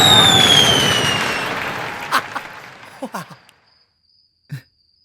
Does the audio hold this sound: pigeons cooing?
no